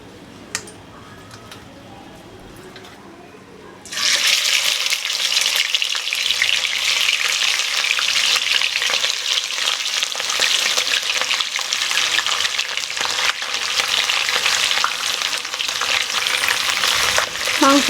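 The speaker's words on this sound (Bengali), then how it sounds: "মাংসটা আমার দেওয়া হয়ে গেছে তেলের মধ্যে। খুব ভালো করে আমি নেড়ে দেবো।" Mutton pieces sizzle loudly in hot oil with dried chilli, bay leaf and whole garam masala (cinnamon, cloves, cardamom), bursting into a steady, close frying hiss after a quiet start, with stirring throughout and no talk.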